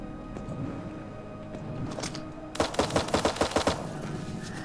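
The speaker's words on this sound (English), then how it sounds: "That sounded like I was a little too close to the turrets for my liking" Turrets in the building game Eden Star fire a rapid burst of about ten sharp, loud shots in quick rhythm after a few quieter scattered bangs, heard without anyone talking.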